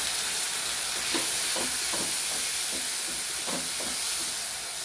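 Cumin, ginger, coriander and pepper spice paste frying with tomato paste in a pan for a coriander catla fish curry, giving a loud, steady sizzling hiss with occasional soft stirring taps throughout.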